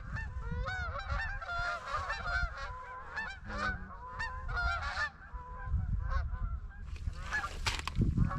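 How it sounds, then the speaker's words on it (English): A flock of geese honks loudly overhead in a busy, overlapping chorus of nasal calls that continues throughout, in Nova Scotia. "We got geese right over us here."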